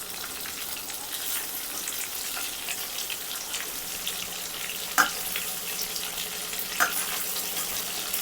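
Stuffed brinjals fry in oil in a pan, giving a continuous bright sizzle and crackle that stays close and steady, with a couple of sharper clinks from stirring.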